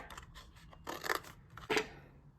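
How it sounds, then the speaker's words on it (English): Two or three short, crisp snipping bursts of scissors cutting through a paper cup, close by, with quiet pauses between cuts and no talking. "If you have bigger scissors, you can probably cut this a lot faster."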